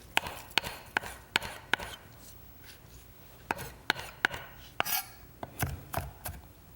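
A knife mincing fresh chives on a cutting board makes crisp, evenly spaced taps in short runs, close and fairly quiet, with no voices.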